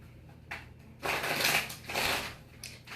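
Tarot cards riffle-shuffled in two bursts of crisp, papery flutter, with a few softer card taps before and after; close and fairly quiet, with no talking.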